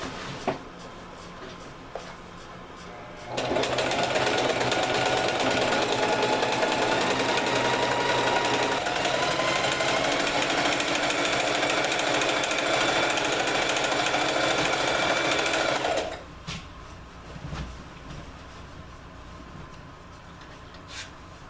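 Sewing machine stitching a straight hem along the edge of an oilcloth tarp, running loud and continuous for about twelve seconds between quieter handling noises before and after.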